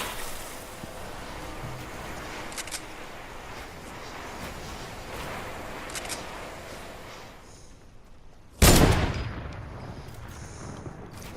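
Gunfire in a duos battle-royale match, a couple of shots traded: scattered faint cracks over a steady rushing bed of ambience, then one loud sharp blast near the end that rings out and fades.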